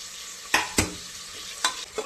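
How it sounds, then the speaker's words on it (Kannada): Chopped tomatoes go into well-fried onions in a pan for a soya chunks pulao. Four distinct scraping clacks of a spoon against the pan stand out over a low, quiet background sizzle. "ಈರುಳ್ಳಿ ಚೆನ್ನಾಗಿ ಫ್ರೈ ಆಗಿದೆ. ಇವಾಗ ಸ್ವಲ್ಪ ಟೊಮ್ಯಾಟೊ ಹೆಚ್ಚಿಟ್ಕೊಂಡಿದೆ ಅಲ್ವಾ, ಟೊಮ್ಯಾಟೊನೂ ಕೂಡ ಆ್ಯಡ್ ಮಾಡ್ಕೊತಾ ಇದ್ದೀನಿ"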